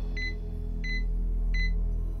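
Three short, evenly spaced electronic beeps in Yakuza: Like a Dragon, bright and clear over a low background hum.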